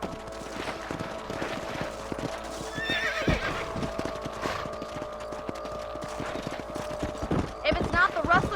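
Horses ridden and neighing in Red Dead Redemption gameplay, a run of hoofbeats with a couple of whinnies amid western ambience and a sharp crack partway through.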